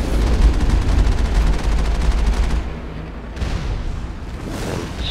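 Enemy salvo in Mass Effect, a dense, loud roar of continuous gunfire and explosive booms that eases slightly midway but keeps rumbling throughout.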